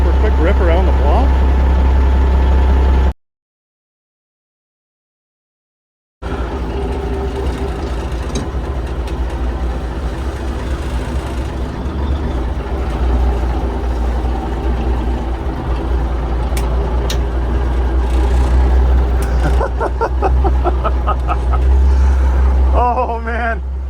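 Peterbilt 359 truck diesel engine, a deep steady idle rumble that cuts out briefly, then returns and keeps running as the truck gets under way, with someone talking over it.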